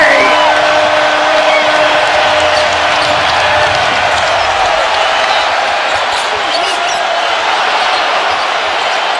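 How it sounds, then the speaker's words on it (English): A large arena crowd roars and cheers continuously at a 2015 NBA playoff game between the Hawks and Wizards, a loud, sustained wash of voices with whoops and yells rising over the din. "Crowd reacts."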